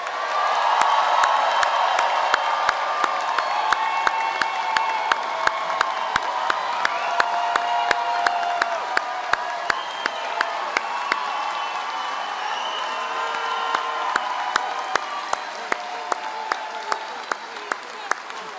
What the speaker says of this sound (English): please join me in congratulating our graduates a final time with a round of applause